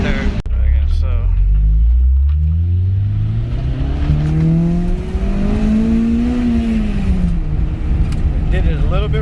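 A car engine with two broken valve guides revs hard in second gear toward about 6,000 RPM, its rising whine climbing, wavering and stumbling, loud and close over road rumble while someone talks.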